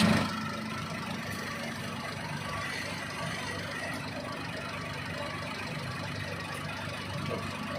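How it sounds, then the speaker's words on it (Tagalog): A motor runs at a steady idle, a low continuous rumble with faint knocking, close by and moderately quiet throughout. "tunog ng makina"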